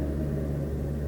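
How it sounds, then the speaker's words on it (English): Steady low rumble of distant highway traffic on Highway 45, a continuous faint drone with no distinct passing vehicles and no talk. "If you hear traffic in the background, that's just 45."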